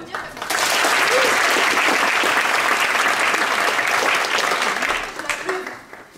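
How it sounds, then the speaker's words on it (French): A theatre audience applauds at an improv show during the Impro en Seine festival, full steady clapping that swells in quickly, holds for several seconds with scattered voices, then tapers off. "On peut l'applaudir comme ça."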